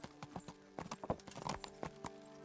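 Horse hooves clop on hard ground in the Kingdom Come: Deliverance video game, a quick, uneven run of close, fairly quiet hoofbeats over a couple of seconds with no talk.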